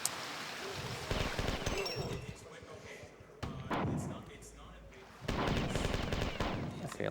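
Gunfire in the Marathon Infinity video game, aimed through a window at a switch: several sharp, loud shots in bursts over a continuous game soundtrack and speech.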